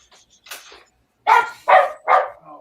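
A dog barks nearby, first a couple of softer yips, then three loud sharp barks in quick succession.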